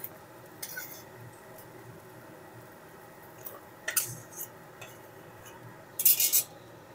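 A utensil scrapes and clicks against a plate as fried bitter gourd, cooked until reddish in oil, is lifted out, with a few soft sparse scrapes over a quiet kitchen background.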